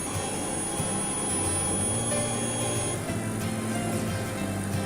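An Innovatek mini 2030 laser machine cuts wood, a steady droning hum with a constant high whine from its fans and motors running evenly throughout.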